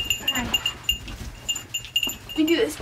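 Five young goats out in a field on a farm at night, their small bleats and rustling scattered under nearby voices talking, fairly close and moderately loud.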